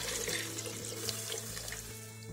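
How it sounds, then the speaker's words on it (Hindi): Water pours steadily into a pot of lentils and rice being readied for khichdi, a continuous close splashing rush with no speech. "ये देखिए हमारे हाफ प्लेट के करीब दाल चावल थे तो हम लोग ये फुल पानी डाल रहे हैं"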